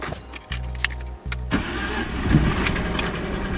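A BMW E36 Touring, freshly fitted with a new coil and spark plugs, cranks in two short chugging bursts before the engine catches and fires into a rough, loud idle up close.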